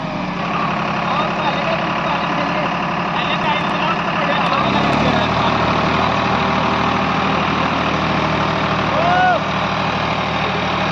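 A powerful John Deere 8055 tractor engine runs steadily at close range while pulling a 9-by-9 harrow, a low droning rumble that deepens partway through, with a voice talking over it.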